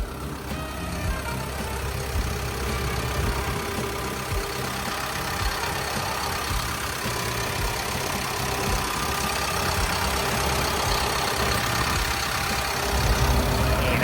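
A Caterpillar 312E-2 12-ton excavator diesel engine idles steadily up close, a continuous low rumble with a mechanical clatter, running unchanged throughout with no voices.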